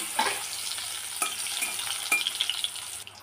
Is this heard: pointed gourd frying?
yes